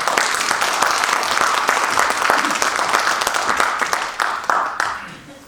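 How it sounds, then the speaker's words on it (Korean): An academic conference audience claps steadily to welcome a professor, a dense, even round of applause that fades out toward the end. "교수님을 첫눈의 설렘과 같은 박수로 드립니다"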